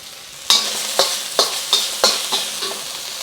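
Ginger and freeze-dried garlic hitting hot oil in a pan for Japanese fried rice: a burst of sizzling, then a string of rhythmic spatula scrapes, roughly seven strokes, close and clear with no voices.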